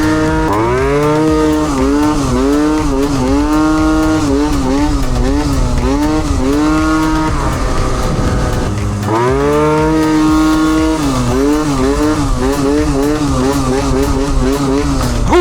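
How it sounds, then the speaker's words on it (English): A scooter fitted with a Stage 6 kit over-revs while ridden hard through a corner. The engine wails loud and close, pitch climbing and dropping in repeated surges with a brief dip partway through. "Yeah, she's over revving,"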